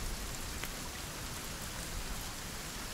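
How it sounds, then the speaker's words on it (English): Rain falls in the survival game Sons of the Forest, a steady hiss of drops on surfaces heard from under a shelter, alone and fairly soft. "here comes the rain. Lucky we're under shelter."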